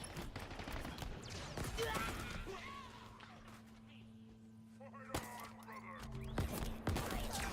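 Gunfire in the Halo video game, bursts of loud rapid shots and weapon blasts in the foreground mixed with humming sci-fi ambience, quieter in the middle, and a voice speaking over parts of it.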